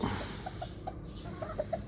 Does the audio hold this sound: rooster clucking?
yes